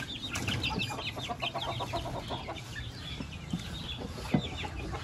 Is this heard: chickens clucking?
yes